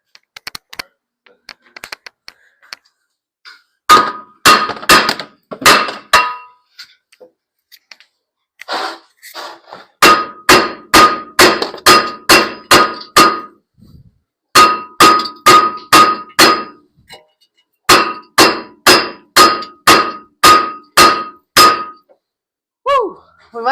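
A hammer pounds on a stuck transmission part of an Eclipse GST in bursts of rapid ringing metallic blows, loud and close, with short pauses between volleys.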